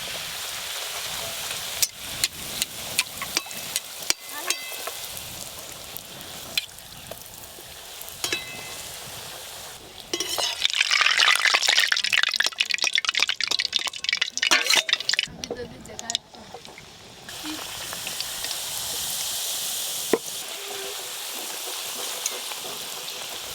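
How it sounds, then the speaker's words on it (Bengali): Luchi flatbreads deep frying in hot oil in a rustic village kitchen: bursts of loud bubbling sizzle rise and fall, interspersed with sharp clinks of utensils and brief quieter pauses. "এবার সব লুচিগুলো ভেজে নেব"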